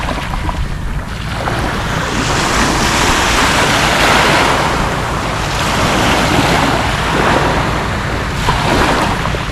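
Ocean surf washes continuously onto a seashore where fishermen are netting, loud and close, with steady wind rumble across the microphone and swelling bursts of breaking waves throughout.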